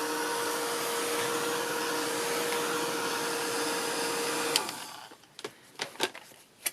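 A heat tool blasts hot air to dry paint on a mixed-media journal page, a loud, steady whooshing roar that runs for several seconds before cutting off, followed by a few light knocks and handling sounds.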